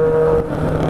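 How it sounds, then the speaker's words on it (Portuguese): Trucks dumping debris, rock and sand on a city street, heard as a steady rumbling engine drone with a low hum, continuous and fairly loud throughout. "Caminhões aí, derrubando detrito aí,"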